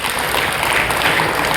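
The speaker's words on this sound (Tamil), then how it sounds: "கைதட்டுங்க." An audience at a Tamil religious discourse on Thiruvasakam worship claps together, a brief, even wash of applause that fills the whole moment.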